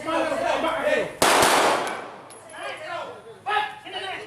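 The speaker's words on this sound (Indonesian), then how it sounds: "Polisi meletuskan tembakan peringatan berkali-kali agar mereka menyerahkan diri." Police warning shots fired during a raid on youths fleeing toward a river in Bandar Lampung: one loud sharp burst of gunfire, with voices talking before and after it.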